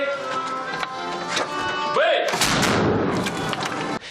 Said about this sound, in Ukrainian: символічними пострілами із мушкетів